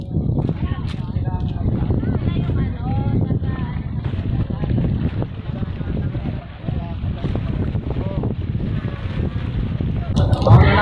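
At a boat harbor in Hundred Islands, Alaminos City, Pangasinan, a steady low rumble of boats and water runs throughout, heavy with wind buffeting the microphone, while people talk nearby.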